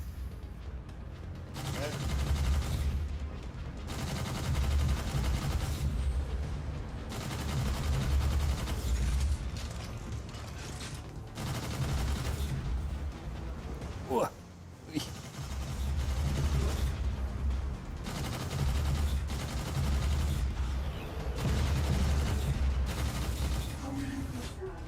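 Gunfire from a gun pod in a PlayStation VR shooter comes as dense bursts of rapid shots and booms in long waves, with a brief lull midway. Talk runs underneath.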